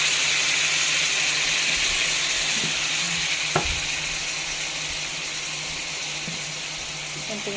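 Tofu with egg fries in a pan with a loud, steady sizzle and hiss, broken by a sharp utensil clack midway, then settling into a slightly softer continuous crackle.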